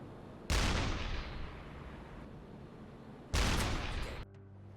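A U-boat deck gun firing in the submarine game UBOAT fires two heavy booming shots a few seconds apart, each with a long rumbling decay, heard alone without any voices.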